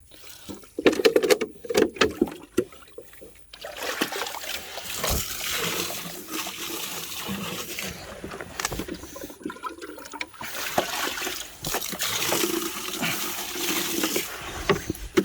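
Water is poured into containers for cattle on a Samoan farm, splashing and trickling steadily at close range for several seconds alongside outdoor background noise.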